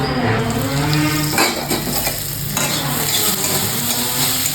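Potatoes fry in a pan in a home kitchen with a steady, close sizzle, broken by spatula scrapes and metallic clinks against the pan. No one speaks.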